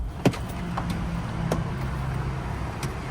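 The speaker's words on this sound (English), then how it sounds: "The car's still running." A Mazda idles at a service center with a quiet, steady low hum, broken by a few short clicks and thumps nearby.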